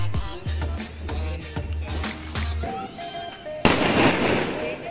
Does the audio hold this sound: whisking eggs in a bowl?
no